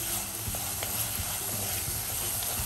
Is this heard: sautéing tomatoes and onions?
yes